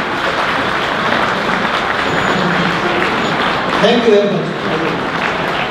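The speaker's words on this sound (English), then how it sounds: "So I want everyone to stand up and clap." An audience applauds in a sustained, dense wash of clapping at a Tibetan resettlement society gathering in Canada, with someone speaking briefly over it.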